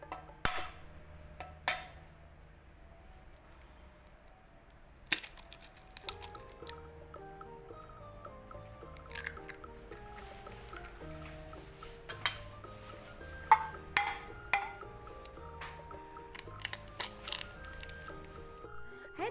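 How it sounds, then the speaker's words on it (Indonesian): A fork beats eggs in a bowl, making a string of sharp, close clinks and taps in irregular bursts with short pauses between them, over a quiet tonal background. "Di sini aku sudah ada mangkok dan garpu untuk memecahkan telurnya. Lalu kita kocok."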